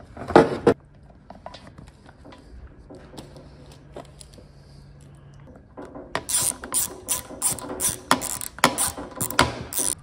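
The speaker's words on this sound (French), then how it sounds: "on va visser une demi-bague pour emboîter ce tube ici" A ratchet wrench clicks rapidly in bursts while a half-ring is screwed onto a tube during assembly of a VPS 2241 VR E panel saw, quiet metallic handling between spells of fast, close ratcheting.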